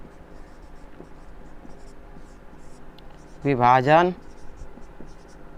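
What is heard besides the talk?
writing with pen during a maths lesson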